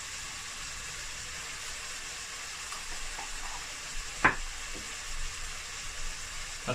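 Venison sizzles and browns in a hot pan, giving a steady close frying hiss with a few soft stirring knocks partway through.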